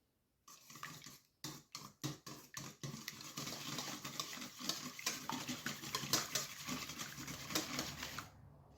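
Five eggs being whisked for a casserole topping: rapid clicking strokes start as a few separate taps, then run into a fast steady rattling rhythm, close and fairly quiet.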